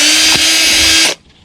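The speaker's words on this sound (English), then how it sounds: "Now that you're done drilling the holes in the top of your bottle, set the drill aside." A power drill whines loudly and steadily while boring holes into the top of a plastic bottle, then cuts off abruptly and leaves a faint hiss.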